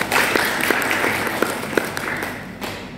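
Church congregation at a Sunday service in Surabaya giving a round of applause, a dense steady patter of many hands with occasional louder claps, fairly close and fading slightly toward the end.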